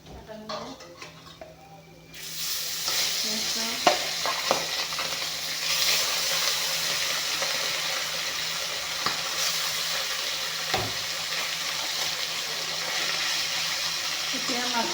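Pieces of bhangan fish frying in oil in a pan for a tangy fish curry, a loud steady sizzle that starts abruptly after two seconds of quieter handling and carries on with occasional spatula clinks.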